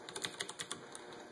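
Rapid clicking keystrokes on a backlit mechanical keyboard with old-style mechanical keys, a quick irregular run of sharp clacks close by, with no voices.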